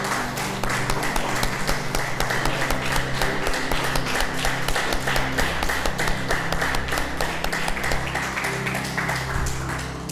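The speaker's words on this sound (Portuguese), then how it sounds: "Pode aplaudir o Senhor." Congregation applauding inside a church during a sermon, dense sustained clapping from a large crowd that holds steady and continuous throughout, with a low hum of the room beneath it.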